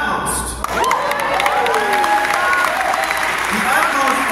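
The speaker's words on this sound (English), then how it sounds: "Come on, keep on clapping." A church audience at a praise gathering claps and cheers loudly and continuously, a dense crowd roar with scattered whoops and shouts rising over the applause.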